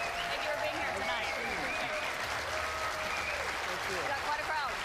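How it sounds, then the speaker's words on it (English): Standing ovation at a CNN town hall in New Hampshire, with dense, sustained clapping and crowd cheering at steady loudness throughout, no talk over it. "Standing ovation."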